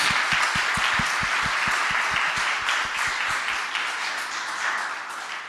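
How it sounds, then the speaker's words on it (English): An audience applauds a panel at a design event, a sustained wash of many hands clapping with a steady rhythmic beat running through it, gradually easing off toward the end. "a round of applause, please"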